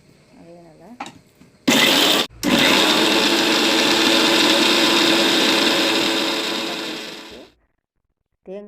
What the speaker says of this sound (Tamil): இதையும் அதேமாரி மிக்சியில் போட்டு நல்லா பேஸ்ட்டு பண்ணிக்கிறீங்க.